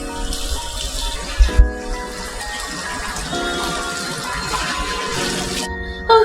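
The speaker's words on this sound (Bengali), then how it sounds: "এই যে ঝুড়িটাকে ধুয়ে নেবো।" Tap water runs and splashes steadily as a basket is rinsed at home, a loud continuous gush with a couple of thumps and a brief break near the end, no voices.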